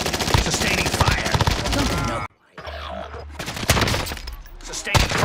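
Sustained automatic gunfire in a first-person shooter video game, loud dense bursts filling the first two seconds, a brief gap, then more rapid firing resuming, with a voice talking over it.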